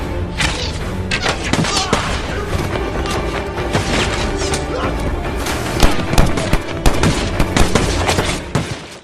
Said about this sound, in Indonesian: Mereka pun ditembaki para prajurit Kaisar yang terus berdatangan.